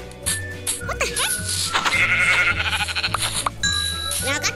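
Sheep in Minecraft bleat in several short wavering calls over busy game music and effects, with a person talking now and then alongside.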